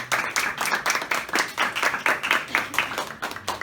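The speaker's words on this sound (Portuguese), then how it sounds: "A salva de palmas para essa palavra." A church congregation claps after a scripture reading, with a small group's hands patting in an uneven, pulsing rhythm of distinct bursts at moderate distance and no talk.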